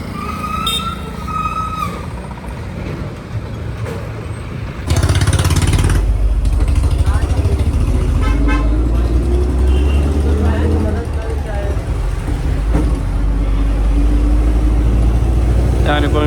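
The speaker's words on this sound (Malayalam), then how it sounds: "ഒരുപാട് ബസ്സുകൾ ഇങ്ങനെ തുരുതുര വന്നുകൊണ്ടിരിക്കുകയാണ്" Buses roll into a busy bus stand one after another, engines rumbling loud and close, with a heavy low roar building midway and vehicles passing amid steady traffic noise while someone talks over it.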